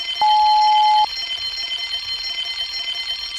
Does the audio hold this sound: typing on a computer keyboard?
no